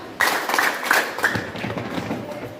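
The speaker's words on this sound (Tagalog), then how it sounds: "palakpak, tatlong tadyak." A group at a marksmanship training session performs a rhythmic clap-and-stomp routine, a run of loud, close percussive claps and thuds in quick sets, with voices mixed in.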